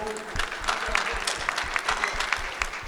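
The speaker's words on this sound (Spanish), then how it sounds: "aplauso también para ella" Audience applause at a public health and veterinary panel session, steady clapping from a seated crowd with individual claps standing out, moderately loud and continuous.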